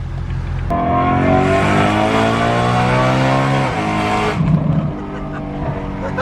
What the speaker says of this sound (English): From the outside, bro, the downshift sounds insane.